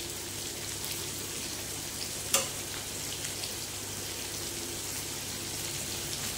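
Chicken in a yogurt curry with raisins and apricots is stirred in a frying pan: a soft, steady sizzle throughout, broken by one sharp utensil clink partway through.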